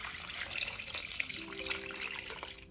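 Hot water poured from a kettle into a pot in a countryside kitchen, a continuous trickling, splashing stream with a faint low tone emerging midway, no speech.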